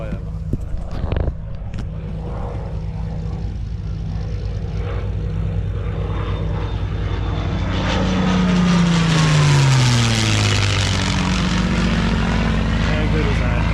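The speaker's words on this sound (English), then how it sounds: "Oh, here we go. Flyover." A P-51 propeller aircraft flies over during a fly-in breakfast at Watts Bridge airfield. The engine drone swells to a loud, close pass with a falling pitch sweep, then fades, over constant background noise.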